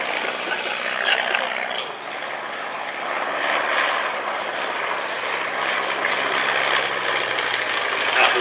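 A Tiger Moth biplane trainer's engine drones steadily throughout, a propeller plane's continuous buzz at fairly close range at an airshow, with no talking.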